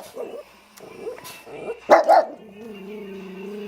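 A dog barks at a car snowblowing during a Rochester, New York snowstorm: a few sharp nearby barks and yips, with a whine and a low hum of the machine continuing behind them.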